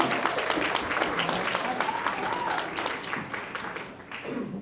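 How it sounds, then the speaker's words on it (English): An audience at a fall prevention presentation gives a hearty round of applause: close, dense clapping that stays strong throughout, thinning slightly near the end. "So if we can do a big round of applause for Betsy."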